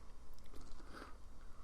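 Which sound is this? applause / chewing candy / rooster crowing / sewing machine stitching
chewing candy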